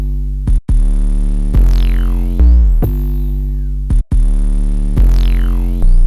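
Odd, gliding bass layered on top of an 808 in an FL Studio jazz-style beat, heavy low tones sustained loud with pitch sweeps and a few abrupt gaps, no voices.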